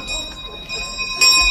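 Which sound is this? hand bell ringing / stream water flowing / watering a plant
hand bell ringing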